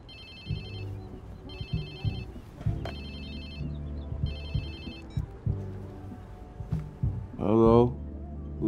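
A phone rings in the Watch Dogs 2 video game, repeating electronic ring bursts in a steady pattern over low music and background sound, followed by a short voice at the end.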